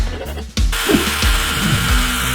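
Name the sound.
power drill making holes in motorcycle part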